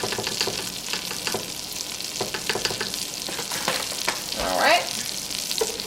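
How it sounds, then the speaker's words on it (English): A whisk works flour into a hot pan as a roux for lobster mac and cheese, giving a scraping, rhythmic stirring over a soft sizzle, with a brief spoken word near the end. "I'm just going to whisk that"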